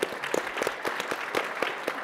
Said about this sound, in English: that just deserves an applause right there